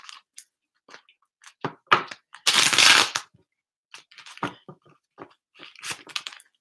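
Tarot cards being shuffled by hand, a run of crisp riffling and flicking bursts with one longer, louder cascade near the middle and short scattered snaps around it.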